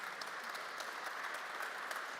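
Audience applause for the panel at a FANUC UK open house on automation and collaborative manufacturing, a dense, even roar of clapping from a crowd, sustained and moderately distant.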